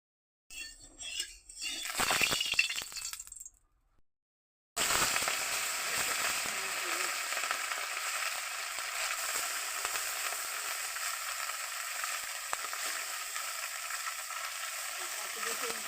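Small puti fish fry in hot oil in a pan. A few clinks and rustles come first, then a brief silence, then a loud, steady, crackling sizzle that continues unbroken to the end.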